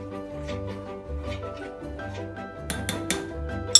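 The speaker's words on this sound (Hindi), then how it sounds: "साथ से हम चम्मच भी चला देते हैं" A spoon stirs a pot of porridge, ending in a quick run of sharp metallic clinks against the pot over soft background music.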